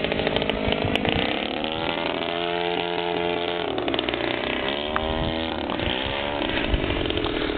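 A DLE-30 gas engine with a rear-mounted carburetor runs on a 30cc Wild Fred Laminar Yak model airplane, giving a steady, loud, buzzing two-stroke drone whose pitch dips and rises a little as the throttle changes, with no talking.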